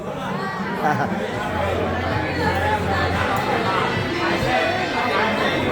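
Steady crowd chatter fills a Bangkok bar during halftime of a Euro 2024 football match, a continuous murmur of many voices with a nearer voice talking over it.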